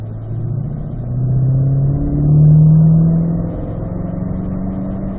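Corvette C8 engine on an easy warm-up lap at a driving school, heard from inside the car as a loud, steady drone that swells as it accelerates, then settles back, with no talk.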